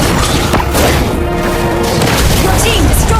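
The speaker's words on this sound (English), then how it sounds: "Your team destroyed a turret!" A turret is destroyed in the Mobile Legends mobile game, giving a dense booming explosion with crashing debris amid busy game effects and background chatter.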